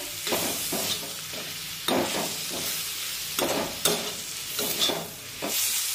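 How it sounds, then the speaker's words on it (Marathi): Tomatoes sautéed with fresh coriander in a pan over medium flame, for a spicy tomato thecha: a steady soft sizzle with repeated scraping strokes of a spatula stirring, close and alone. "2 मिनिटे टोमॅटो परतून झाल्यानंतर यामध्ये कोथिंबीर टाकूया आणि पुन्हा एकदा परतून घेऊया"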